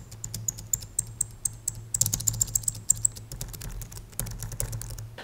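Typing on a Logitech Craft keyboard with a squeaky spacebar: a close, steady run of crisp key clicks and taps, with a high thin squeak recurring through the first half, heard alone without talk.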